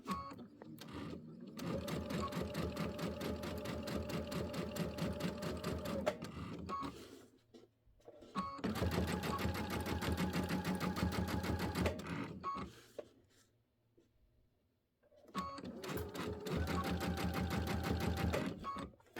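A sewing machine stitching fabric for a table runner runs in three long steady bursts of rapid mechanical whirring, separated by short pauses, close and even.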